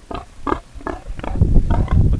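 Heavy, full-grown pigs on a Danish organic farm grunt and oink close by in a quick series of loud, rhythmic snorts.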